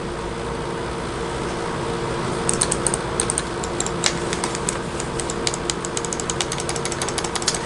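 A BenQ Zowie ZA gaming mouse button is pressed repeatedly. After a short quiet stretch, a run of crisp, light, close clicks starts and continues over a steady low background hum.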